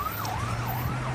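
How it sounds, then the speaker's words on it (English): Sirens wail from a convoy of Israeli special forces vehicles driving past in southern Israel, a rising and falling electronic siren over a low engine rumble, close and loud for a brief moment. "A convoy of Israeli special forces just drove past, sirens on, heading south."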